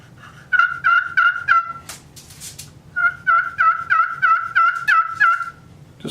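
A turkey pot call worked with a hardwood striker gives two close bursts of sharp, raspy yelps in quick series, with a brief scratchy pause between them.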